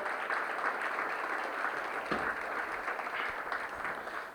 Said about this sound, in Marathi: जोरदार टाळ्या वाजवून आपण त्याचं कौतुक करूया.